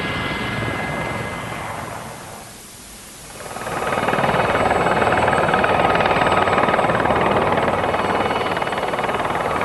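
Training aircraft flying circuits, its engine drone steady and loud, dipping briefly around the third second before returning to a strong, continuous roar.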